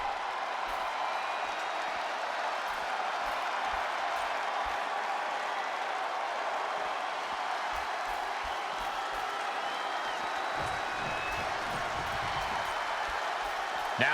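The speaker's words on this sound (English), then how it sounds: "Taking a moment to get pumped off of this crowd's incredible energy" A WWE 2K22 arena crowd roars and cheers steadily throughout, a dense wash of applause and shouting with no pause.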